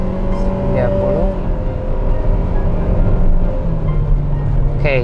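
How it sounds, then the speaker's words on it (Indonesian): A Mitsubishi Xforce accelerates on a test drive with four people aboard, its engine hum rising in pitch through shifts under steady road and cabin rumble, with talk in the car over it. "kalau dilihat dari akselerasinya, mesin mobilnya memang serupa dengan expander karena menggunakan mesin yang sama"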